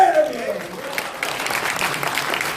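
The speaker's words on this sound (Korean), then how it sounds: "박수!" An audience at an indoor rally bursts into applause, a burst of clapping that swells and holds steady while a voice trails off at the start.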